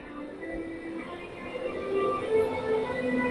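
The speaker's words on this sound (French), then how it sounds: "Le bruit du train." A train rolls past with a steady rumble and faint metallic squeals, heard from a moderate distance.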